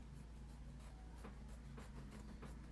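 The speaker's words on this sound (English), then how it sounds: "I'm using my good gold scissors." Good gold scissors snip through bandana fabric in a run of short, crisp scratchy cuts over a steady low hum, close and fairly quiet.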